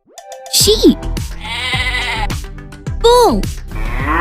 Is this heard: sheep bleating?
yes